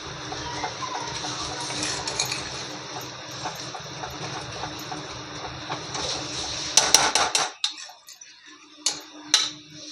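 Eggplant and dried shrimp bharit is stirred in a pan, with a steady sizzling hiss and then a few loud metallic clanks and scrapes of the spoon against the pan near the end.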